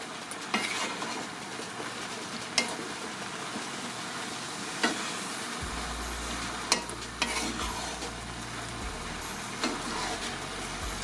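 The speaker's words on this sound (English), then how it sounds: "Just continue stirring." A spoon stirs lasagna sauce in a pan over a steady sizzle and gentle bubbling, with occasional clinks against the pan and no one speaking.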